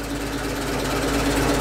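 A classic Ford Anglia engine idles after a spell in storage, a steady, close, even rumble with a low throb that holds level throughout.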